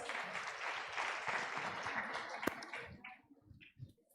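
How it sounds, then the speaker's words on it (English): Conference audience applause fills the room at moderate distance, a dense wash of clapping that holds steady for a few seconds and then thins out into scattered claps before fading away. "Let's appreciate more again with a lot of applause."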